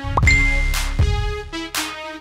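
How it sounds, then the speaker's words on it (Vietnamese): A phone message notification chime plays as a short series of clear, ringing electronic dings, several bright tones in quick succession, each decaying with a resonant tail. "Ủa, có tin nhắn này"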